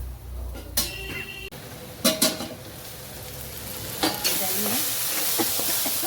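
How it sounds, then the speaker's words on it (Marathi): Okra fries in a pan with a low sizzle as a spoon stirs and scrapes it in several distinct bursts, with a clink of metal on the pan. "मी झाकण काढून एकदा हलवून घेतला, तुम्ही हलवून घ्यायचा."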